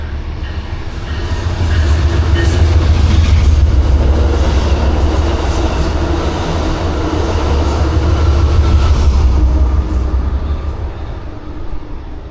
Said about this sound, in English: let's enjoy the Amtrak train going by